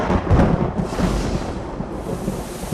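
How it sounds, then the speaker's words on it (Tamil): Rolling thunder with rain, a deep rumble that swells loud at the start and eases into a steady low roar, alone with no voices. "வானத்துல மறுபடியும் இடி மின்னல்."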